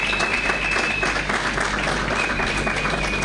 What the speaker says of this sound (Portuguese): Também uma salva de palmas para eles